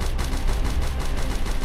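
Rapid bursts of tank machine gun fire in Roblox Tank Simulator, a dense rattling stream of evenly spaced shots at moderate loudness, heard alone.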